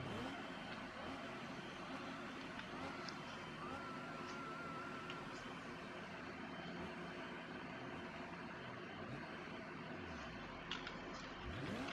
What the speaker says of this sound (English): Sounds like I'm trying to rev it.